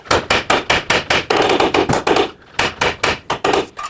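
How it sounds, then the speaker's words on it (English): Repeated hard metal hammer blows on the steering knuckle of a 2009-2014 Honda Fit ring out in a fast, steady rhythm, about a dozen sharp strikes close by with a brief pause midway. "Next I want to hammer on the knuckle right here"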